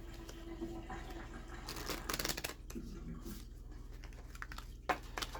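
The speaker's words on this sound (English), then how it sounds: "Now we'll give these each a couple of shuffles." Quiet riffling of playing-card decks, one plastic, being shuffled by hand indoors, brief bursts of crisp flutter with soft taps between, close and faint.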